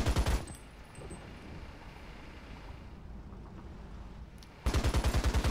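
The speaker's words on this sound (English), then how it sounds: "Use my machine gun on him so that he can't fire on me." A Sherman tank's machine gun fires in War Thunder, opening with a loud rattling burst, then a pause of low engine rumble, then a second rapid burst near the end.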